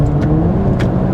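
A 2014 Maserati GranTurismo Sport engine revs hard near its rev limiter, a loud, close, steady roar that holds for the whole moment with no pause.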